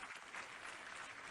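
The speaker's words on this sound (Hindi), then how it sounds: "शानदार तालियों के साथ" Brief burst of audience applause greeting Union Civil Aviation Minister Scindia on stage at a live event with CM Shivraj Singh, dense and steady from start to end.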